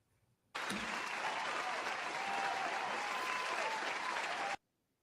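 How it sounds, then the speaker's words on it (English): A room of people applauds for a boxing talk show panel, with steady, dense clapping that starts abruptly and runs for about four seconds before stopping sharply. "let me get y'all a round of applause"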